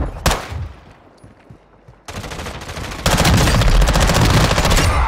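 Automatic gunfire from a Call of Duty match: a sharp opening shot, a stretch of scattered firing, then sustained rapid machine-gun bursts that grow louder and denser toward the end, with no talking.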